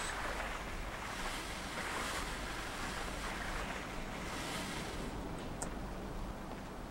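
Continuous rushing water and wind as a boat moves along in a video game (Limbo), a steady, even wash with no voices.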